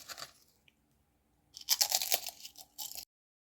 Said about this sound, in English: You see they're nice and crunchy and crispy.